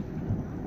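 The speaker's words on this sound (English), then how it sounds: "And thunder." Thunder rumbling during a storm in Florida, heard from inside a car: a low, continuous rolling roar lasting the whole short moment, with no talk.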